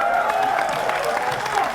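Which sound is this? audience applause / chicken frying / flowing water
audience applause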